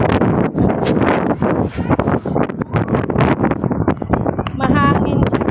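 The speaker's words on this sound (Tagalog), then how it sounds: "Kasi mahangin." Strong wind buffeting an outdoor microphone, loud rumbling gusts and crackling bursts throughout, with people talking faintly underneath.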